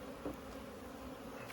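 Dense, steady buzzing of many honeybees around a large hive, close and continuous with no voices.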